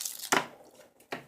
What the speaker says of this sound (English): we're just going to cut these out.